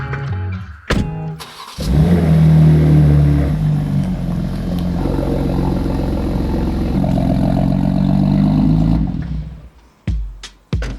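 A BMW M2 engine runs loudly and close by for about seven seconds as the car is turned around, a steady mid-pitched drone with light throttle swells, fading out near the end.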